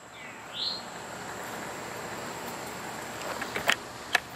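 A few faint bird chirps outdoors against a soft steady background hiss, with a couple of sharper tweets near the end.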